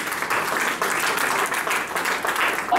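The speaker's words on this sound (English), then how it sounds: "Clap for this God." A church congregation applauds together in a steady, dense wash of clapping that fills the room and carries on without a break. No voices rise above it.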